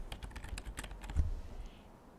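Fingers tap a computer keyboard in a quick burst of close, crisp keystrokes, about a dozen clicks in an uneven rhythm before tapering off.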